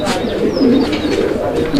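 Fancy imported American pigeons coo in soft, throaty bursts close by, a short rolling call with light voices in the background.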